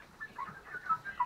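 Chickens in a coop make soft, faint clucks and peeps in short bursts close by, with no voices.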